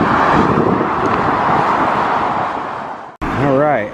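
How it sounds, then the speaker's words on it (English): Freeway traffic below an overpass, heard while crossing on a bike ride: a broad, steady roar of passing cars and wind noise that cuts off abruptly near the end, followed by a brief voice. "Crossing over the freeway on both sides here."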